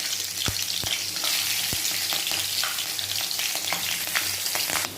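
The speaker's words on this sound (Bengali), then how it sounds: "তেলটা দেখো গরম হয়ে গেছে। আর আমি এতে একটু জিরে দিয়ে দিলাম।" Cumin seeds and green chilli crackle and sizzle in hot oil, a steady dense frying hiss broken by several sharp pops and spatters, close up with no talking.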